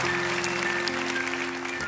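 Audience clapping at a church gathering, a steady wash of many hands that holds for about two seconds, with sustained music tones ringing underneath.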